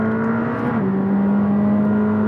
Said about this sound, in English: That titanium exhaust, it certainly adds volume, but it's only making a slightly gravelly